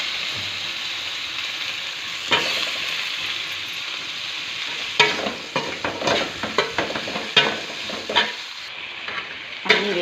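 Thinly sliced eggplant fries in a pan with sizzling oil while a spoon stirs and scrapes, sharp clattering strokes breaking through the steady hiss, close and without talk.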